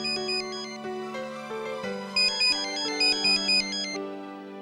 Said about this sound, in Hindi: फोन उठाना, उठा बेटा।